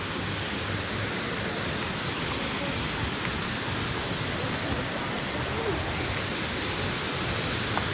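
A rainy-season waterfall at Chet Sao Noi in Muak Lek, Saraburi, produces a steady, even roar of rushing water, continuous and unbroken across the whole stretch with no voices.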